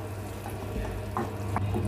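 Pumpkin and beans stirred in a hot pan for Kerala mathanga payar erissery, giving a soft, steady sizzle with a few faint scraping strokes and no voices.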